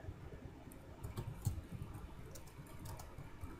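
Faint, scattered keystrokes on a computer keyboard while Arabic text is typed on a freshly installed Windows 8 PC, with soft irregular clicks set against a low background hiss.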